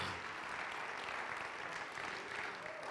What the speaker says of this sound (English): Give the Lord a hand clap for it right now